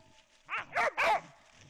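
Hunting dogs give three quick, close barks and yelps in succession over freshly caught prey, with a faint background murmur.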